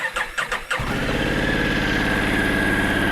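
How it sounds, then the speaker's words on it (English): A 2021 Honda Africa Twin CRF1100L motorcycle engine starts after a few brief clicks and settles into a steady, close, rumbling idle, with no talking over it. "So what I want to do is I want to get the bike warmed up here."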